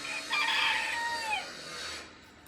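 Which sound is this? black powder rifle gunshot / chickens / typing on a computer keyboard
chickens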